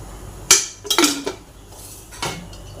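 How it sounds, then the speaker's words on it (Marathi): A spoon clinks against a metal kadhai on a gas stove while oil is added for pithla: three sharp metallic knocks, the middle one a quick cluster, close and clear over a quiet kitchen background. "कढईमध्ये मी 2 चमचे तेल घालून घेते।"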